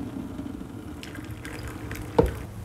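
Water poured into a pot or jug to make gløgg, a low steady liquid wash with a brief splashy drop near the end, close and fairly quiet with no talk over it.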